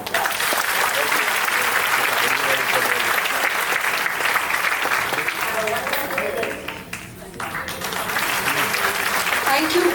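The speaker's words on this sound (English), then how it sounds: "Let's give them a big round of applause." Audience at an ISC school graduation ceremony breaks into sustained, dense applause lasting the whole stretch, loud and continuous, dipping briefly near the end before swelling again, with some crowd noise mixed in.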